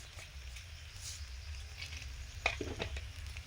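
Dried red chillies fry in hot mustard oil for a pangas fish curry, giving a steady, moderate sizzle with light crackles and a few brief sharper pops toward the end.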